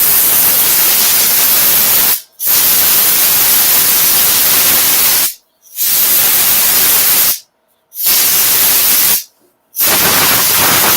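Compressed air blasts off a freshly turned wood piece in four long, loud hissing bursts, each cut by short silent gaps, with no talking over them.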